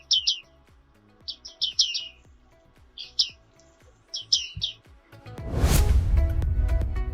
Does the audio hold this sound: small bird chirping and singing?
yes